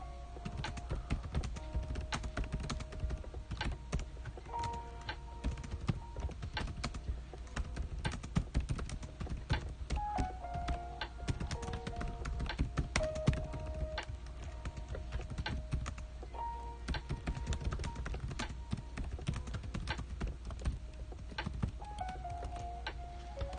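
Steady close-up typing on a computer keyboard, rapid clustered keystrokes running continuously over a low background hum with no talking.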